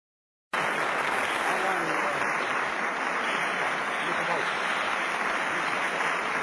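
Sustained audience applause after a debate, a dense, even wash of clapping from a large crowd that holds steady throughout without fading.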